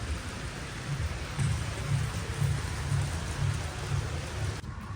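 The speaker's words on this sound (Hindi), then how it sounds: "मैं बाहर दिखाने आया हूँ कि बारिश अभी भी आ रही है" Steady rain falls outdoors in the late afternoon, a dense continuous hiss with low rumbling patter throughout, fairly loud and uninterrupted, dropping slightly just before the end.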